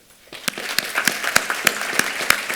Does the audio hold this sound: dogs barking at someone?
no